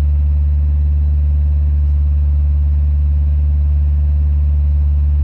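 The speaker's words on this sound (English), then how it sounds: "you can run an engine on hydrogen gas with a stock ECU" A car engine running on hydrogen gas through a stock ECU idles close up, a loud, steady, deep rumble that holds even throughout with no voices.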